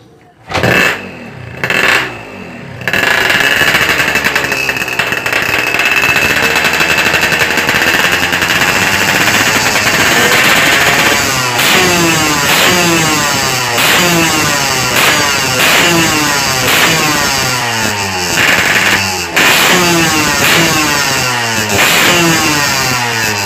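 A repaired Yamaha RX King two-stroke motorcycle after a failed cylinder porting job, with weak low-rpm response: a few kick-start attempts, then the engine catches and runs loud and close, revving repeatedly in rising and falling sweeps with no talk.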